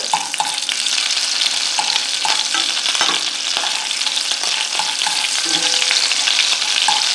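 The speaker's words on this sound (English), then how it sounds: "And just start mashing with a fork" Two anchovies are mashed with a fork in sizzling oil and butter in a warm cast iron pan. The steady, close frying hiss runs throughout, with scattered sharp clicks as the fork taps the metal.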